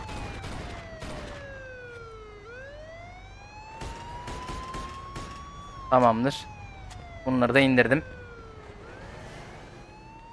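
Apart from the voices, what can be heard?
police car siren left on, from video game Mafia 2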